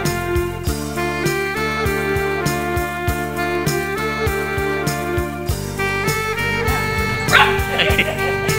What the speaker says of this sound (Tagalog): Ito si Buddy, ang alaga naming aso.